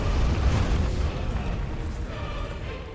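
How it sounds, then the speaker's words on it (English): A violent Brimstone explosion ability in Final Fantasy XVI, a deep rumbling blast that booms loudly at once, then rolls on as a sustained roar that fades only slightly. "Hold and release R2 and square to emit a violent explosion."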